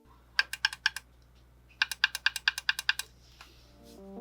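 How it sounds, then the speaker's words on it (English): Crisp button clicks on a Premier Powerbase display board, a run of four quick clicks then a longer rapid series of about ten, sharp, close and clear over a low hum. "Adjust the tension of the nylon screw to achieve a crisp button click."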